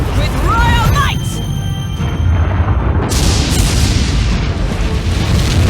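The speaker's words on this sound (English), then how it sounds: "Explosion! Big bang!" A loud, booming magical explosion attack in the video game Metaphor: ReFantazio, a heavy low rumble bursting out amid voiced battle shouts and music.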